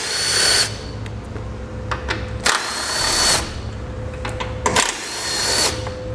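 Power tool whirring in short bursts as a 10mm socket backs out the three bolts holding a bumper deflector on a 2011 vehicle during a Roadmaster crossbar-style base plate install; three spaced runs of buzzing with quieter gaps, close by.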